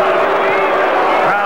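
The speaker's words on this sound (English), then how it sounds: "Crowd doesn't like it" A boxing crowd at an Olympic bout murmurs and calls out in disapproval, a dense, loud roar of many voices over a brief moment.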